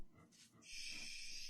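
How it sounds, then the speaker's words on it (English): A dog barks indoors, its short bursts sounding rough and somewhat muffled, followed by a sustained hissy, wheezy noise. "What's she barking at?"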